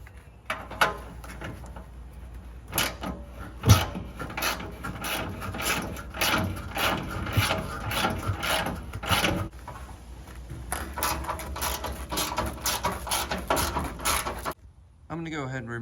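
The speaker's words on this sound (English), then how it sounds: "I'm gonna go ahead and remove these bolts as well." Bolts are removed from a Toyota 4Runner's underside near the front skid plate, with a series of clicking, scraping metallic and mechanical sounds from tools and hardware, close by and fairly steady over about fifteen seconds.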